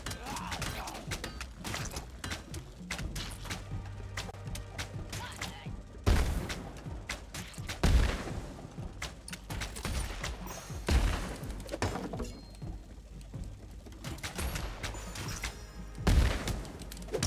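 Dwerve video game combat with a troll boss: several heavy thumping explosions land at irregular intervals over busy game sounds and rattling hits, fairly close but moderate in level.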